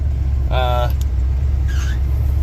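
A 1985 Chevrolet K20 pickup truck with hay in the bed drives along, its steady low engine and road rumble running continuously and fairly loud, with brief vocal sounds over it.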